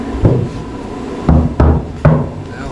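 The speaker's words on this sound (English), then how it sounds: "Just got to grind this away" Angle grinder cutting metal on a car's fender during bodywork, heard as several short loud bursts separated by pauses, close by with no talking.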